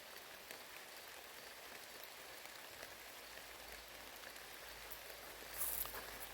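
Steady rain patters down across a garden, a dense even hiss throughout with a slightly louder burst of drops near the end; no voices.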